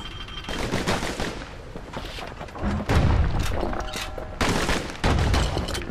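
Dual slinger pistols from Bastion fire in dense, rapid volleys, loud and close, with bursts of shots and heavy low thumps layered into a continuous barrage.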